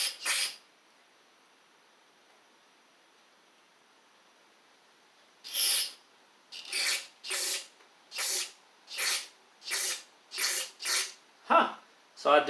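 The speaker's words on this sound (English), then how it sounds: "I do see gas going through the holes whenever I spray them into these 2 jets here." Repeated spray bursts of carburetor cleaner aimed into the two jets of a Husqvarna LGT2654 riding mower carburetor, a single burst then a run of about nine short hissing sprays in quick rhythm, close and loud.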